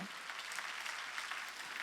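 A church congregation at a Korean Sunday worship service claps together in a brief, steady, even wash of applause, moderately distant and fairly soft.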